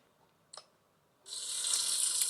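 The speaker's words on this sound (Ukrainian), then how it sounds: "Так, помити ручки треба." A faucet runs for hand washing in the Avatar World video game: a short click, then a steady bright stream of water starts and keeps flowing to the end, with no talk.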